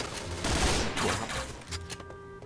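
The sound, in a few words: gunfire in Point Blank video game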